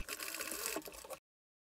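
A sewing machine runs a regular straight stitch on a sweatpants pocket area, whirring in a quick, even mechanical patter close by for about a second before it stops dead into silence.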